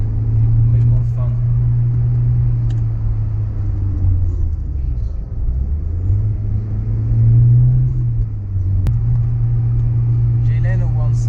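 A Nissan Sunny Coupe GTi drives on Swiss mountain roads, its engine a steady, loud low drone that rises and falls in pitch as it revs and eases through bends, with constant road rumble throughout.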